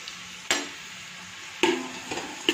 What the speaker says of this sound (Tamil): இப்போ ஆனியன் போட்டு நல்லா ஃப்ரை பண்ணணும்